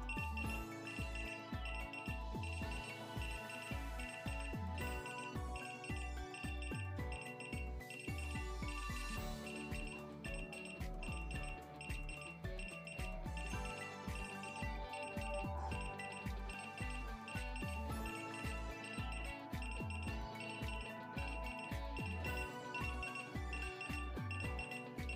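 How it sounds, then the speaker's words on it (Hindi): A digital LED alarm clock's repeating electronic ringtone melody plays continuously with a steady beat and bright tones, loud and unbroken throughout. "हमने जो रिंगटोन सेट किया था उसी रिंगटोन की वजह से 30 सेकेंड तक रिंग बेल बजेगा"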